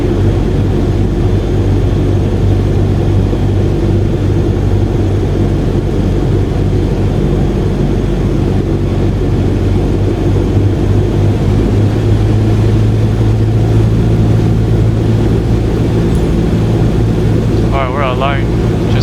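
Airliner jet engines in Microsoft Flight Simulator 2020 hold a loud, steady roar on the runway with a constant low hum, and a brief high chirp sounds near the end, under intermittent talk.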